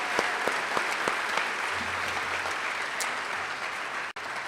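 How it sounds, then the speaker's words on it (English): An audience at a high school sports awards ceremony gives a sustained, dense round of applause for an honored golf coach. The clapping stays steady and fairly loud, with a few sharper claps standing out, then cuts off abruptly near the end. "Let's give her a big round of applause."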